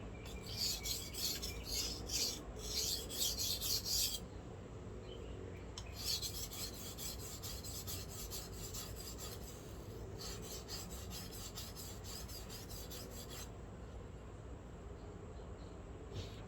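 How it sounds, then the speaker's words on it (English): A single-bevel Japanese kitchen knife being ground on one side, giving close, rapid rasping strokes in bursts, then a longer steady stretch of scraping with short pauses and no talking. "since these um, Japanese knives are single bevel, I'm going, I'm doing all the grinding on one side"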